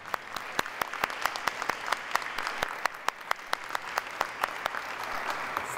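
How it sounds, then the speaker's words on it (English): An audience at a school district address applauds middle school principals and parents, a sustained wash of clapping with sharp individual claps popping out near the microphone. "let's give them a big round of applause"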